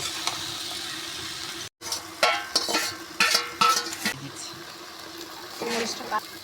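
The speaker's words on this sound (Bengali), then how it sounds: "এবার দিয়ে দিচ্ছি লবণ তারপরে দিয়ে দিচ্ছি হলুদ গুঁড়া এবার ভালোভাবে নেড়ে চেয়ে দিব" Bottle gourd and other vegetables with salt and turmeric stirred in a frying pan over a clay stove: bursts of scraping and sizzling come in separate strokes, with a brief silent gap early on.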